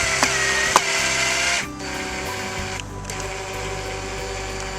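A powered driver runs crosshead screws into rear bumper tread plate on a Land Rover Discovery 4 with a continuous whirring drone, close and loud, easing in pitch as the screws seat, with brief clicks near the start.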